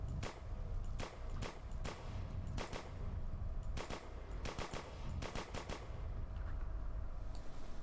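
Gunfire in the video game Penance RPG, sharp shots fired singly and in quick bursts in an uneven rhythm over a low background rumble, loud and close, no voices.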